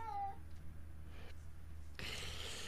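A cat meows once, a short rising-falling cry near the start, followed by quiet room noise and a brief rustle.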